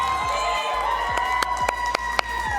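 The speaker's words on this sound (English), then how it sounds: "If you're here cheering for BTMC, go ahead and make some noise." An esports crowd at a grand finals event cheers for BTMC, a loud continuous roar of voices and shouts with rhythmic clapping or stomping beats punctuating it.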